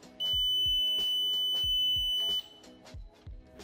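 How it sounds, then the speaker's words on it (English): A limit switch alarm on an xTool D1 Pro 20W laser engraver sounds as one loud, sustained high-pitched tone lasting about two seconds over rhythmic mechanical clatter, then cuts off while the clattering continues. "An alarm will trigger when the laser is about to hit any of the boundaries of the machine."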